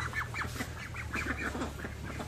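Several ducks quack in quick, overlapping bursts at close range, a busy rhythmic chatter over a low background hum, with no talking.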